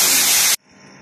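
Water poured into hot ghee-roasted semolina for halwa bursts into a loud, close hiss of steam and sizzle for about half a second, then cuts off abruptly and leaves only a faint, low simmering hush.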